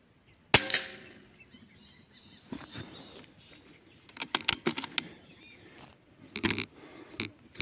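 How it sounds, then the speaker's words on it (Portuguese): A shotgun blast rings out sharply once during duck hunting at a lagoon. Scattered rustling and clicks follow, with a few more bursts of noise later. "conseguimos aqui fazer um disparo no paturi"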